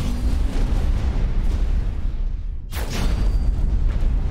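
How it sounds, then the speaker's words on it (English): A heavy plasma cannon fires in the space game X4 Foundations, giving a loud, sustained rumbling roar that breaks off briefly and then surges again with a sharp burst, close and dominant. "Now here we have the plasma cannon, your heavy hitter."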